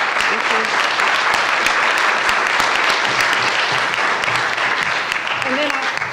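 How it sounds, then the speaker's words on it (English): An audience at a science talk on CRISPR gene editing gives a sustained round of applause for the speakers, an even, full clapping that holds for six seconds with a few faint voices underneath. "If we want to give them just one more round of applause."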